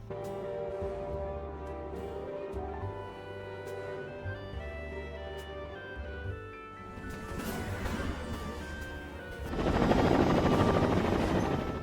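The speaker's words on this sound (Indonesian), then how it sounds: "Sebuah helikopter dikirim untuk menghentikan aksinya, namun Philip tetap berjalan" A helicopter drones in a film scene with a low rhythmic rotor thrum and a whine, building to a louder, rougher roar near the end, with no talk.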